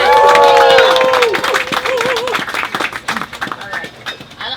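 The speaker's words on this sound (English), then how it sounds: "So please give Nubian a round of applause." Crowd at an outdoor protest at a Brooklyn housing project applauding, scattered claps and cheering that rise over voices, with whistle-like tones early and a loose, uneven patter of hands fading toward the end.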